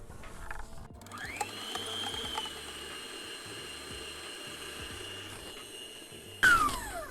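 An electric mixer whirs continuously, beating egg yolks and water for a bem-casado sponge cake, a steady motor drone that rises in pitch at start-up, then is switched off with a short clatter near the end.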